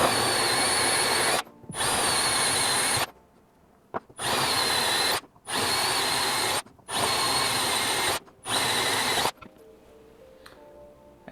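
A power drill bores through a Sim-Lab Xero-Play quick release for a Simucube wheelbase in five steady, loud whining runs separated by short pauses, then goes quiet apart from faint handling noises.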